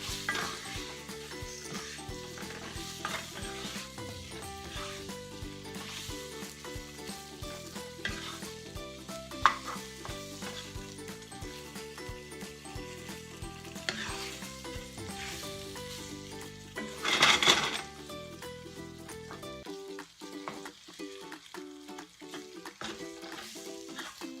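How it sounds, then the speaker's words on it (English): Arvi (taro root) stirred and fried with masala spices in a pan gives a steady sizzle with repeated stirring scrapes, swelling into a louder hiss near the end before quieting. "I'm going to add the arvi and I'm going to give it a good mix"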